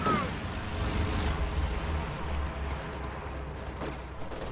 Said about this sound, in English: Rifleman successfully dodged that strafing run.